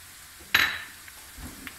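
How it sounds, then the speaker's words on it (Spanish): Flaked mackerel stirred together with onion in a pan, one brief scraping, sizzling stir standing out clearly, followed by a softer second stir, close by with no talking. "lo integramos todo con la cebolla"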